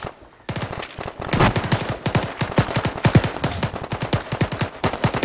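Simulated gunfire erupts in an ArmA military battle on a beach: dense, fast bursts of rifle and machine-gun shots crackle continuously and loudly, overlapping in rapid rhythm after a brief quiet start.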